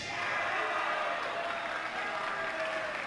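Students at a high school freshman and new student orientation cheer and clap together, a steady moderate burst of crowd noise lasting a few seconds.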